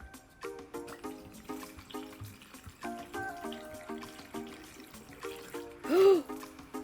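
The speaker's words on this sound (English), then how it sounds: "Let me get a funnel. And we're just going to fill these up." Alcohol is poured through a funnel into bottles of vanilla beans, a faint trickling flow under soft background music, with a short loud vocal exclamation near the end.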